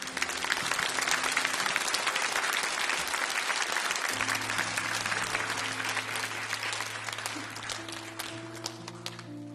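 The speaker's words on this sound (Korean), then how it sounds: "큰 박수로 좀 맞아주시기 바랍니다." Steady, full applause from a church congregation at a Sunday service, continuous dense clapping throughout with soft background music tones underneath.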